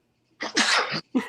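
A single close, loud human sneeze with a sharp inhale and an explosive burst, followed by a short tail of breath.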